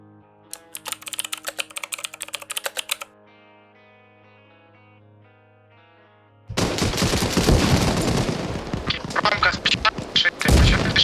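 Intense close gunfire and grenade blasts in the Arma Reforger game erupt in the second half, a dense continuous barrage with sharp bursts, after a quieter start of rapid clicking and low tonal hum.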